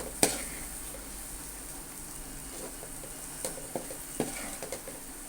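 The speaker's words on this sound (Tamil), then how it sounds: "நல்லா இந்த மாதிரி கிளறி விடுங்க." Egg macaroni being stirred in a pan, a quiet steady sizzle broken by a few soft scraping and clinking stirs near the end.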